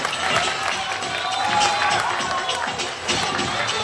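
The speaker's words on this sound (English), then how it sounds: "Big, big applause to her." Audience applause for a performer at a Sankranthi festival celebration, busy clapping mixed with cheering and crowd noise that carries at a steady level throughout.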